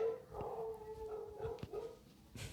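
Dogs in the horror video game Wake Up Dead Witch give a few faint, short barks and yips with a whining tone, spread irregularly over a quiet background.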